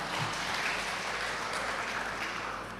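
An HKBP church congregation in Cimanggis claps together in steady, dense applause that fills the room evenly from start to finish.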